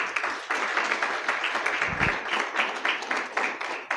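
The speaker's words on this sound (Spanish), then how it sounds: "Denle otro aplauso a Él." Church congregation clapping during a Christmas celebration service, a steady, moderately quiet patter of many hands heard alone for a few seconds.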